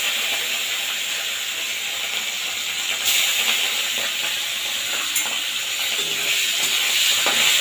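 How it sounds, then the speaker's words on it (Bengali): Prawns fry in hot oil with a steady, moderately loud crackling sizzle and hiss that continues evenly throughout, with no talk. "এবার চিংড়ি মাছটা ভেজে নেব।"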